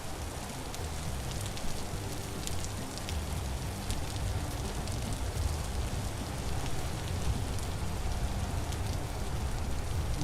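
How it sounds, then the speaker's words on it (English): Heavy rain in the video game Vintage Story, a loud, continuous hiss of dense pattering drops with scattered sharper splashes, steady throughout without any voices. "Look out of this rain. Holy crap."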